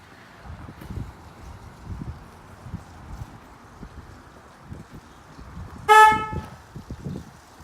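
Ford Focus horn giving a single short chirp as the keyless entry system locks the car, a brief loud toot standing out against quiet outdoor background and footsteps.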